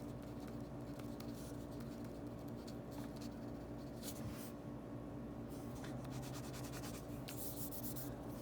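A 1.5mm Ohto Fude rollerball pen writes on smooth Rhodia paper, giving soft, faint scratchy strokes in short bursts with brief pauses, close up and quiet.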